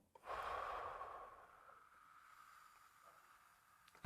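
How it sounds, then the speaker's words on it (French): A single deep breath taken during a guided breathing exercise, a drawn-out airy inhale that slowly fades into a quieter exhale, close and soft, followed by a brief sharp sound at the very end. "Une respiration."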